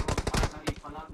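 Gunfire in the PUBG video game, a fast, close burst of sharp, rapid shots in a steady automatic rhythm with a short gap before a few more cracks.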